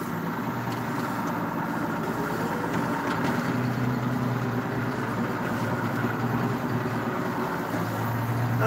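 A farm tractor idles steadily outdoors, a continuous low rumbling purr with a faint light breeze, no talk.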